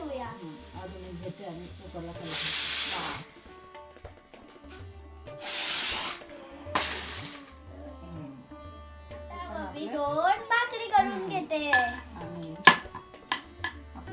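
Pressure cooker releasing steam in a home kitchen while cooking spinach gargati bhaji, two loud sustained hissing bursts and a shorter third one, with someone talking between and after them amid clinks of utensils.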